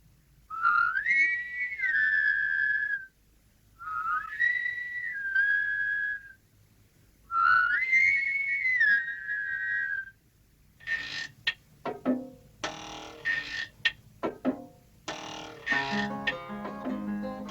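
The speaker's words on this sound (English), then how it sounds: "so many people whistling is sure to work." A company of soldiers whistling together on command, three long sustained chorus notes with short pauses between, followed by scattered, clattering mechanical and musical sounds.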